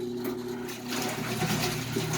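An antique wringer washing machine hums steadily as its cycle starts, its motor drone joined by a sloshing, splashing wash that grows busier after the first second, close and continuous with no voices.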